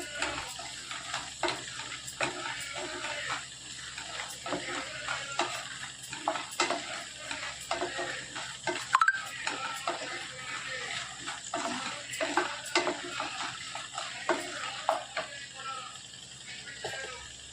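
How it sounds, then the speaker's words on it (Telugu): Cumin seeds fry in hot oil in a pan, giving a steady soft sizzle broken by repeated clinks and scrapes of a spoon stirring, close and continuous. "జీలకర్ర, బాగా ఫ్రై చేసుకున్న తర్వాత"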